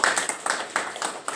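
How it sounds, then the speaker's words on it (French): A few people in a church congregation clap for one of their members. The claps are brief and rhythmic, close by and of moderate loudness, and a faint voice can be heard under them. "Alors, on applaudit pour elle"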